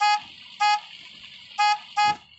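A car horn in a video game honks four times in short, loud toots, the first two spaced apart and the last two closer together.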